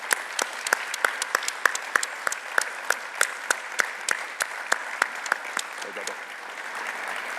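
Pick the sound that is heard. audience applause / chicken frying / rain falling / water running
audience applause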